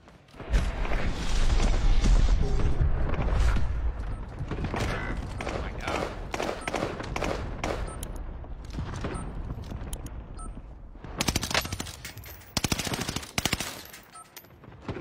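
Heavy gunfire in the video game Call of Duty Warzone, with loud sustained automatic bursts near the start easing into scattered shots and sharp sniper cracks later, dense and continuous with no talk.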